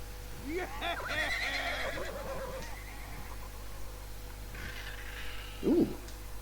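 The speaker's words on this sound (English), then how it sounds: "okay, let's startle the horses." In the Elder Scrolls Online, startled horses let out a loud whinnying neigh, then a quieter one, and a sharp snort follows near the end, with some hoof clatter under a voice talking.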